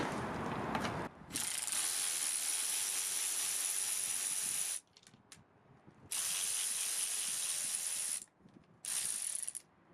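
Ratcheting wrench work unbolting the carburetor from an AWD Toro mower, with bursts of steady ratchet clicking separated by short pauses.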